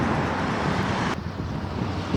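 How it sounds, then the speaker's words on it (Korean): Road traffic from the eight-lane Wondang-daero forms a constant broadband roar in the distance, with a slight drop in level partway through and no voices. "8차선의 원당대로는 역시 소음이 좀 있습니다."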